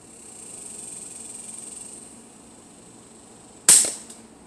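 A Hatsan Tackdriver air rifle fires one sharp, close shot outdoors, a sudden crack breaking a quiet background of faint insect hum, with a brief tail after it.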